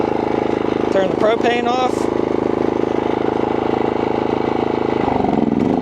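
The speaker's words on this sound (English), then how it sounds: "so there's how the Maxpeedingrods MXR4000GT dual fuel generator works" MaXpeedingrods MXR4000GT dual fuel generator running on gasoline, a steady close droning hum that holds throughout while someone speaks over it early on.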